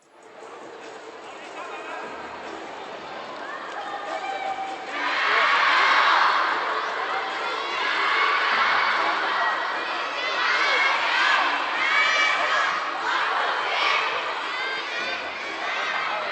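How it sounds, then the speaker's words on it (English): Arena crowd at a men's singles quarterfinal of the WTT Champions Macao table tennis event bursts into loud cheering and chatter, swelling after a quieter murmur and holding at a steady roar with scattered shouts. "The crowd cheer"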